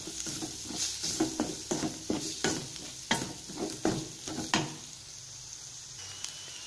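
Masala with chili powder fries in a pan for a masala egg fry, a soft sizzle broken by a regular series of spoon scrapes and stirring knocks, close and fairly quiet, ending in a gentler sizzle.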